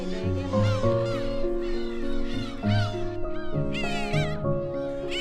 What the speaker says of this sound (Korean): 자신들의 영역에 침범한 낯선 이의 방문에 갱이갈매기들이 소리로 저항하는데 그 소리가 고양이와 닮았다고